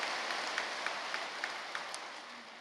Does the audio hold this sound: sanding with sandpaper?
no